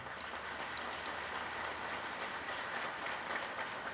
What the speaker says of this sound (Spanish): démosle un aplauso a Andrés Uriel